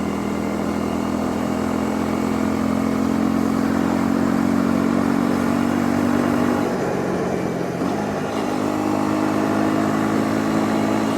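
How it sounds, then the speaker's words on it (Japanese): The Honda CL250, a 250cc motorcycle, climbs uphill in 4th gear with a loud, steady engine drone up close. Near the end the pitch drops briefly during a gear change, then the engine pulls again under heavy wind rush. "少しエンジンの音を聞かせしたいと思います"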